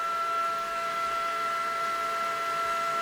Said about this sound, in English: So what you're hearing right now is the CPU fan.